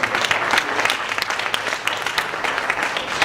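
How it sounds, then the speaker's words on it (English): Applause at an annual candle lighting ceremony for scholarship recipients standing in the room, dense, lively clapping from a crowd that continues evenly throughout. "So let's just give them a round of applause."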